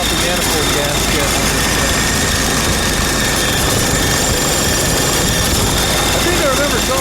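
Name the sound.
old tractor engine running, warmed up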